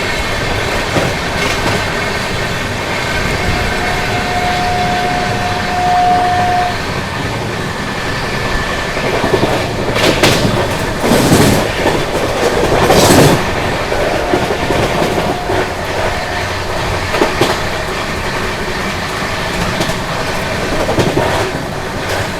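The 12860 Gitanjali Superfast Express from Howrah to Mumbai CSMT runs past with loud continuous rumble and rail clatter, rhythmic wheel bursts rising and falling throughout, with a brief tonal squeal early on.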